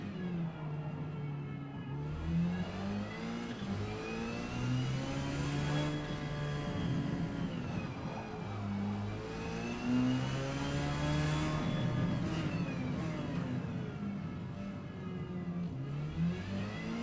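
Porsche 919 Hybrid race car in Forza Motorsport, X class at Kyalami during a qualifying lap: a continuous loud engine drone that swells and falls with gear changes and acceleration, sustained throughout with no talking.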